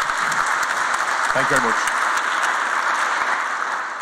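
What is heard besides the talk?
conference audience applause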